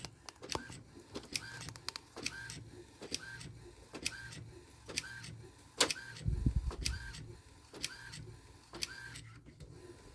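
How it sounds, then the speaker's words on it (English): A converted Epson XP15000 DTF printer printing onto film, with rhythmic clicks and whirring print-head passes repeating roughly every half second, fairly quiet, and a brief clunk partway through. "It's printing right now."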